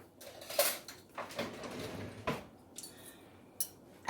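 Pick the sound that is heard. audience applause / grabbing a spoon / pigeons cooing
grabbing a spoon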